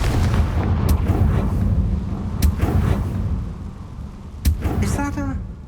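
A Confringo fire spell explodes in the video game Hogwarts Legacy, a heavy rumbling blast with sharp cracks mixed into loud game sound and a voice.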